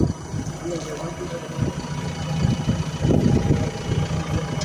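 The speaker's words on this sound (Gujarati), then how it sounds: "એક ટ્રેક્ટર આપ જોઈ શકો ભાઈ" Tractor engine idling nearby at a site where soil is being dumped, a steady low chugging drone that grows a little louder partway through, with people talking over it.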